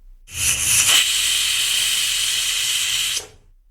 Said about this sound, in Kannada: ಕುಕ್ಕರ್ ಮುಚ್ಚಳ ಮುಚ್ಚಿ ಒಂದು ಶೀಟಿ ಒಡೆಸ್ಕೊತಾ ಇದ್ದೀನಿ